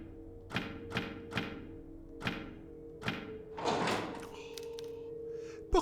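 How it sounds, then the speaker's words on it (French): A door unlocks in the survival horror video game Tormented Souls: a series of evenly spaced mechanical thuds and clicks, then a heavier grinding clunk and fainter rattles over a low ambient hum. "Porte déverrouillée."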